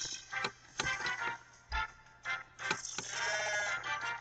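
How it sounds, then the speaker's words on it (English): A cow Pokémon's cry from a Pokémon video game sounds as a fairly faint, rough, bleating call that rises and falls in several pulses over a few seconds, with no voices. "Oh my goodness, it's a cow."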